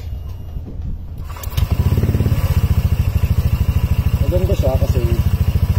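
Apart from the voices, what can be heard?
motorcycle with custom exhaust pipe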